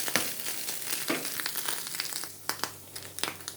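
Fish pieces frying in their own released oil in a pan, a soft crackling sizzle with intermittent louder pops and stirring scrapes, fairly close and quiet, no talk.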